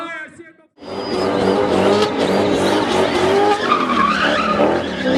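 Car spinning at a township festival, its tires screeching in a long continuous skid over a loud revving engine, close and sustained for several seconds after a brief quieter start.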